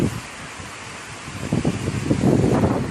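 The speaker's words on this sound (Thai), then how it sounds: "ลมแรงหน่อยนะคะ" Strong wind gusts outdoors around a giant Turkish fig tree, a broad rushing roar that swells louder in the second half, buffeting close on the microphone with no speech.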